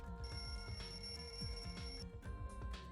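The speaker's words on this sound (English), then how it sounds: "The lounge's wall clock alarm started ringing at 5:30." A wall clock alarm rings in the lounge in the Danganronpa 2 video game, a steady electronic bell-like ringing that carries on continuously for about three seconds without any talk.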